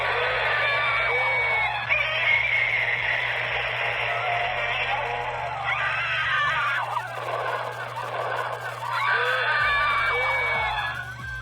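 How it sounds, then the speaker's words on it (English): A battery-powered Godzilla toy playset sounds off continuously with shrill crowd screams and a monster roar, loud and dense throughout, electronic and slightly harsh. "You hear all the screams, you hear Godzilla roaring, it just sounds like a bunch of destruction going on."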